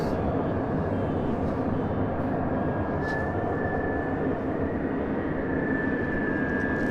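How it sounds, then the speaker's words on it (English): A Qatar Airways Airbus A350-1000 arriving at LAX from Doha, a loud, steady jet roar with a rising engine whine close by, continuous throughout. "Big Q A350 1000 coming up from Doha"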